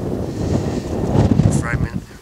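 Strong wind on the hilltop at Ivinghoe Beacon in the Chiltern Hills buffets the microphone with a loud, low, gusting rumble, while a voice talks underneath.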